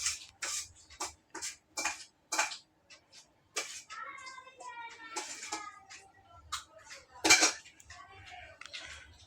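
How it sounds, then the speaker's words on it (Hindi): Dishes, pots and utensils being washed in a kitchen, with clattering metal clinks and scraping bursts close by and a voice chattering between them. "सारे बर्तन धो ही रहा हूँ मैं।"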